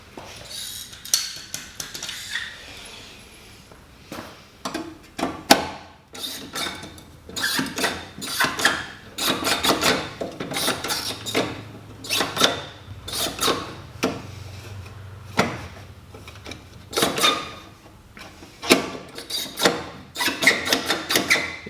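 A cheap pop rivet gun works on a Datsun 260Z Coupe body panel during a rebuild, heard as repeated close metallic squeezes and clicks in irregular bursts, with some scraping and handling noise between them.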